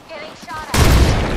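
Gunfire in the Apex Legends battle royale game bursts in suddenly and loudly after a quieter opening of faint game noise, then carries on as a dense, rattling volley to the end.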